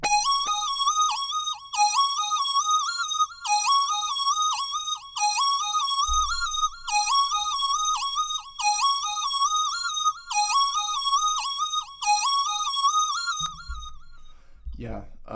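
A secondary synth lead pattern from the Cheap Lead preset in the Purity plugin, for a pluggnb beat: a bright, whistle-like melody repeating in even, looping phrases. It runs for about 13 seconds and stops, and a brief low thump and a short voice follow.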